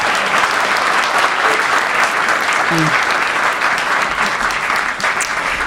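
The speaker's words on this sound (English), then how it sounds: "please give a round of applause to these amazing people" A room of people at an anniversary celebration claps steadily, a dense, even wash of applause that holds its level for several seconds, with faint voices underneath.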